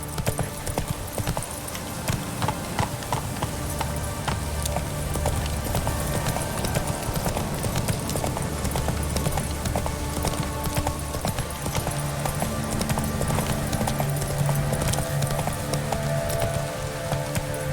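Roach, the horse in The Witcher 3: Wild Hunt, galloping in a steady rapid hoofbeat rhythm that carries on throughout, close and loud, with rain patter and ambient game sound behind it.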